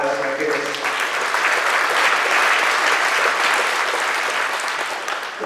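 A crowd at a Valley Fire community update breaks into steady, full applause for Cal Fire firefighters, sustained and close throughout with a few cheers mixed in.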